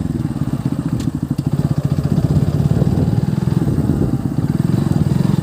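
A modified motorcycle is ridden along a village road in the morning. Its engine gives a loud, close, rapid throbbing exhaust rumble that stays steady throughout.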